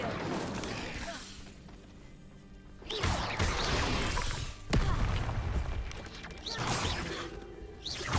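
A fire spell cast in Hogwarts Legacy bursts out in loud whooshing, crackling blasts, several surges over a steady game soundscape, with someone talking briefly amid it.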